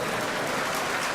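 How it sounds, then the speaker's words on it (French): Audience at a MEDEF business delegation event applauding the organisation's president, a dense steady patter of clapping filling the whole short stretch at moderate distance. "Vous pouvez l'applaudir."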